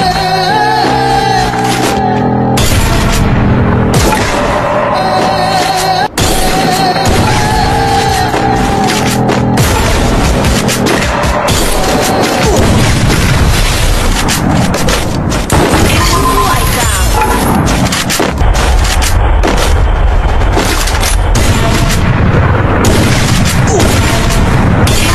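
Repeated video game gunfire with booming shots and rapid bursts, loud and dense throughout, with music or game effects layered underneath and no clear talk over it.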